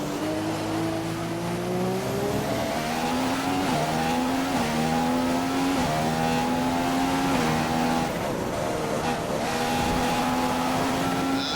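Formula 1 cars racing at the 2015 China round in a racing video game, a loud high engine whine rising and dropping through gear shifts, with tire noise, continuous and close.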